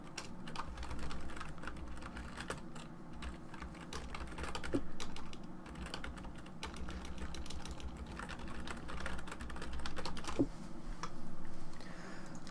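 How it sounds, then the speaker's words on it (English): Typing on a computer keyboard, a steady stream of quick, close key clicks tapping away for several seconds with small pauses and no talking. "I gotta type for a second"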